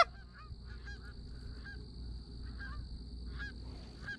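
Canada geese honk repeatedly while circling overhead on an early-season morning hunt in Wisconsin, their calls coming from a moderate distance over a low outdoor rumble.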